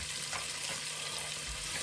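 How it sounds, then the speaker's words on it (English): Curry leaves, star anise and other whole spices fry in a hot pan for a chicken curry, a steady close crackling sizzle with no talk. "I'm going to get this fried up just for a few minutes"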